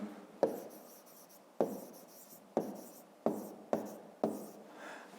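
Pen or pencil scratching out a digit by hand on paper during a fifth-grade maths exercise, six short scraping strokes close up, each starting sharply and trailing off, with no talk.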